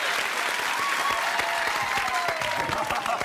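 A studio audience at a family game show breaks into steady applause and cheering for a contestant's cheer squad, a dense continuous clatter of clapping held at even loudness throughout.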